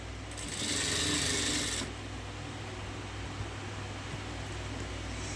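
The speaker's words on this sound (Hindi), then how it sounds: "अब ये सारी लेस को मैं इसी तरह सिलाई कर लूँगी।" A sewing machine stitches joined lace onto a shirt in a short loud burst of steady whirring, then stops, leaving a low mains hum and quiet room noise.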